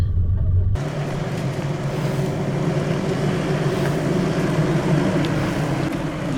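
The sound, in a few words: 4WD driving over dirt ruts on a forest track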